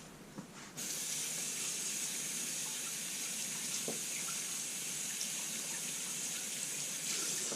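A kitchen sink tap runs steadily as a silicon carbide sharpening stone is rinsed, a constant hissing stream that starts abruptly and continues at even strength, fairly quiet and close, with faint clinks and no speech.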